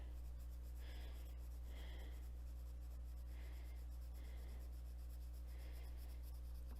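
Arrtx colored pencil shades over marker on paper, a soft steady scratchy stroking in short repeated bursts, close and alone over a constant low hum.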